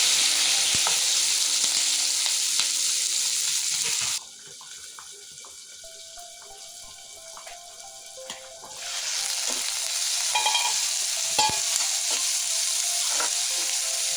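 Onions and green chillies sizzle steadily in a hot pan of oil for a capsicum curry. The frying is loud and close, dips quieter for a few seconds midway, then swells back to a full hiss.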